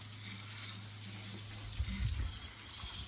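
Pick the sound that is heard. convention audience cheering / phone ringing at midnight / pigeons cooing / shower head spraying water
shower head spraying water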